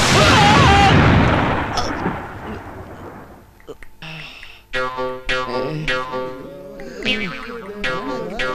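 Firecrackers go off at a firecracker shop in a film sound effect: an opening loud blast trails off, then sharp pops and bangs burst irregularly under tonal, musical film sound.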